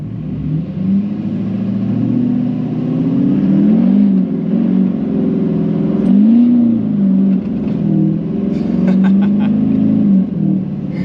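A custom-tuned car with a DSP5 install pulls hard through the gears, its engine note climbing and dropping in repeated rising sweeps, loud and close from inside the cabin, with no talk over it.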